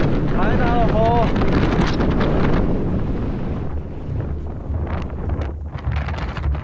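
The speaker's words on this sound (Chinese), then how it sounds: "这风算大哈，很大了吧？" Strong desert wind roars and buffets the microphone loudly throughout, with a steady broadband rush that eases slightly in the second half; a brief voice is heard early under the gusts.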